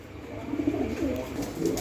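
Fancy pigeons at a pigeon farm in Bangladesh coo in low, throaty, rolling murmurs, several birds close by and continuous over a soft ambient hum.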